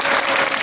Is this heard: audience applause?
yes